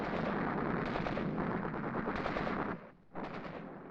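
Dense, continuous gunfire from an infantry section shooting at red cottages, rapid overlapping shots filling the air with a brief lull near the end before firing resumes.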